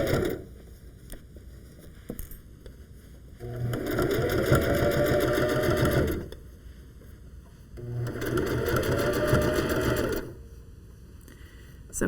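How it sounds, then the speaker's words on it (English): A sewing machine stitches through a thick felted sweater in two long, steady bursts of rapid whirring, separated by quiet pauses, close and clear. "you won't be able to get all that under your sewing machine"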